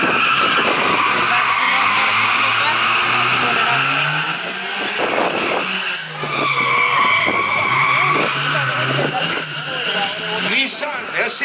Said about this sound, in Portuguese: Escute o motor, escute o motor.